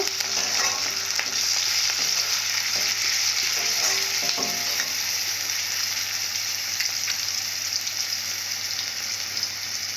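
Ginger and garlic being stirred into a fish curry base in a hot pan, a steady close sizzle with faint scraping and stirring throughout, no voices.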